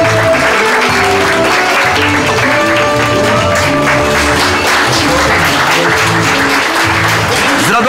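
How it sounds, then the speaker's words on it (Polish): Large crowd at a Great Orchestra of Christmas Charity concert celebrating its 20th year applauds loudly and steadily, dense continuous clapping filling the whole stretch. "Wielkie brawa!"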